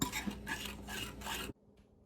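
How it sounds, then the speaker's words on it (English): A spoon scrapes and stirs a mix with water in a bowl before microwaving, with three quick pulsing strokes for about a second and a half, then it stops abruptly into near silence. "I just kind of let it go in and then I stir it to see the desired consistency"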